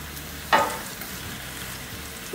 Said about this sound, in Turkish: Yüksek ateşte bir 2 dakika şöyle güzelce kızartıyorum balıklarımı.